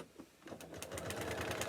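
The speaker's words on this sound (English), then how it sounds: "I'm going to sew it." A sewing machine stitches straight through paper-pieced fabric for a heart block, starting quietly then settling into a steady, fast, close mechanical whir with rapid needle rhythm.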